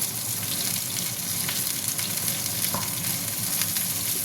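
Pumpkin pieces dropped into mixed vegetables frying in a pan for a vegetarian dish, a steady close sizzle with a brief scrape or two of stirring and no voices.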